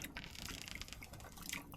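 Broth made from two bouillon cubes, along with juice, is poured into a pot inside a hot tent on a winter snowshoe trip, giving a faint, steady liquid trickle and splashing.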